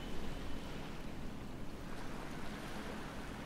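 Water and waves ambience from the VR game Land's End, a soft, steady wash of surf-like noise with gentle swells, faint and continuous with no voices.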